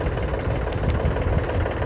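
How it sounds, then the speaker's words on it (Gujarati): A tractor engine idles on a farm field during irrigation work, a close, steady low rumble with a faint rhythmic chug and no talking. "આ ટ્રેક્ટર એ કાંક લેવા જશે"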